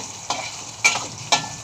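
Pork added to a hot pan for kare-kare, a steady soft sizzle broken by three brief clattering stirs or drops, close and without speech.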